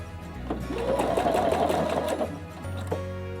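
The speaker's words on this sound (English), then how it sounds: "start sewing, and wait until the machine stops" A Pfaff Quilt Expression 720 sewing machine stitches at speed for about two seconds, giving a loud, steady whirring hum with rapid needle rhythm, then slows and halts on its own with a click.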